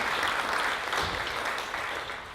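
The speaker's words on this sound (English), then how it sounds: "Let's give a round of applause for Stephanie and Roy." A brief burst of audience applause at a newlywed Q&A event, dense steady clapping that tapers slightly toward the end.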